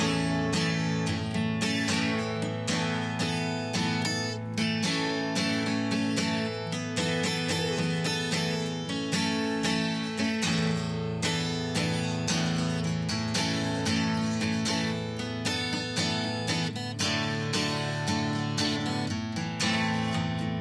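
Acoustic guitar part strums continuously in a dense, steady rhythm, full and loud throughout with no speech.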